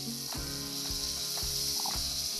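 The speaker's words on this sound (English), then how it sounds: "We got a nice browning sear on the first side." Lamb chops searing in a hot pan, a steady close sizzle with regular soft ticks from the fat spitting, continuous and with no talk.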